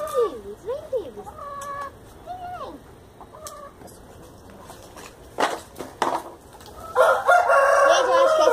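A rooster crows repeatedly in a backyard vegetable garden, loud and close, with clucking hens around it and bursts of nearby rustling and handling noise toward the end.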